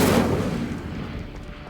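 A single sharp burst of the Incendio fire spell in Hogwarts Legacy, loud and close, dying away over about a second and a half into a soft crackling tail.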